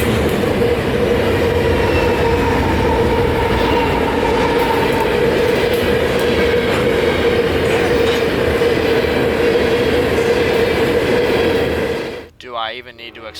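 A CSX unit potash freight train with double DPU locomotives rolls past close by, a loud steady rumble of wheels and cars lasting about twelve seconds before cutting off abruptly.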